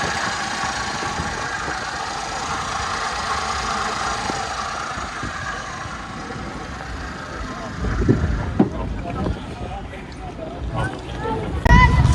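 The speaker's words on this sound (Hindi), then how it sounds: "Start engine." Toyota Vitz engine idling at a busy used car bazaar in Karachi, a steady low running hum beneath people talking, with a few thumps and knocks toward the end.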